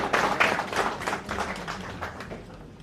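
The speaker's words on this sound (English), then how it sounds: "Can you clap for my colleague, sir?" Audience applause greets an honorable Gambian official invited to the podium at the official opening conference of a maritime university in Freetown, Sierra Leone, steady clapping filling the room for a few seconds and fading slightly toward the end.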